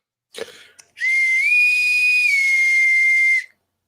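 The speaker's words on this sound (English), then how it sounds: "this is an old boatswain's whistle" A short tap or breath is followed by a long, shrill boatswain's whistle held for over two seconds, rising slightly midway and cutting off cleanly.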